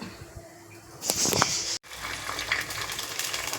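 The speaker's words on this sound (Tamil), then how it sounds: "கருவேப்பிலை போட போகிறேன் தாளிக்கிறதுக்கு." A brief burst of sizzling flares up as curry leaves hit hot oil, then settles into a steady frying crackle.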